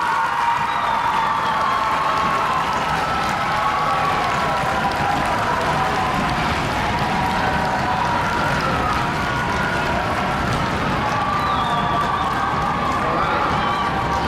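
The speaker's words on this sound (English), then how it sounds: "give a great big round of applause for these people who are behind you" Middle school students give a long round of applause at a school modernization announcement, a continuous roar of clapping blended with crowd cheering and shouts, loud and unbroken.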